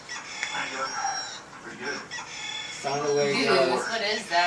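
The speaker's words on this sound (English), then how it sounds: "it's currently making a rooster sound that can't be stopped" Rooster crowing sound played from a tablet PC indoors, several clucks and a full cock-a-doodle-doo with the last crow loudest near the end, over a low background.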